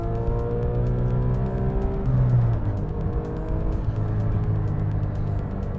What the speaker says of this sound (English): You're opening that flap as soon as your foot is hitting that throttle pedal, and it is awesome.